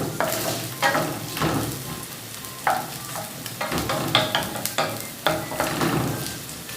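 Chopped onion, about one large onion, frying and being stirred in a pan, with a steady sizzle broken by repeated scraping and stirring knocks close by, and no voices.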